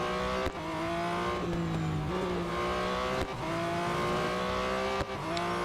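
Race car engines roar in the mobile racing game Real Racing 3, holding a loud, sustained high-revving drone with rising pitch sweeps broken by quick gear-shift dips every second or two.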